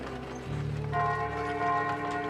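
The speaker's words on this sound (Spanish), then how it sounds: "Uno y doble, anunciando de que alguien había muerto. Era lo que decía esa campana." A church bell at the Santuario del Señor del Hospital tolls to announce a death, with two resonant strokes in quick succession whose ringing hum lingers and overlaps in a quiet setting.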